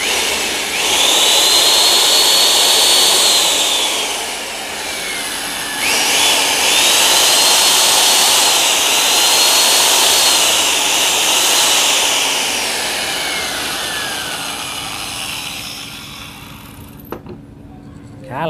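A small-bar electric chainsaw with a large body, plugged in and test-run, gives two sustained high motor whines that rise and dip in pitch, then winds down and fades near the end, close and loud with no talk over it.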